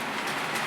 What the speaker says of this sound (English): we've got one train running